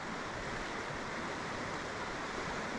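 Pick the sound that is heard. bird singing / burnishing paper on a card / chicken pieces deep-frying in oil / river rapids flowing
river rapids flowing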